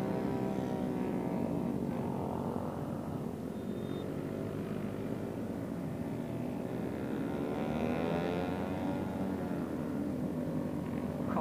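Loud, continuous throaty drone of a modified motorcycle exhaust rumbling steadily close by during a group ride in Padang, its pitch wavering slightly as the engine revs.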